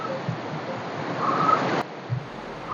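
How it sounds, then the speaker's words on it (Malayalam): Steady rushing water roars at the Erattinpuram waterfall in Thiruvananthapuram, a broad constant wash of noise with a brief click partway through. "നമ്മളിപ്പോൾ വെള്ളച്ചാട്ടത്തിൻ്റെ അടുത്തെത്തി"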